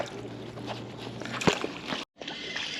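A released pike slips back into a small lake with a sharp close splash and sloshing water, followed by a brief silence and quieter outdoor ambience.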